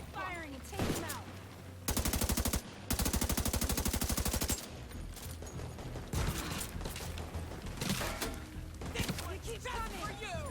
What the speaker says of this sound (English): Keep firing and take them out.